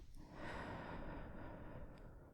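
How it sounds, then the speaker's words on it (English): A slow, quiet breath drawn in close to the microphone during a calm ASMR breathing exercise, soft and airy over a couple of seconds. "Breathe in."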